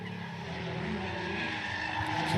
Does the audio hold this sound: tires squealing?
yes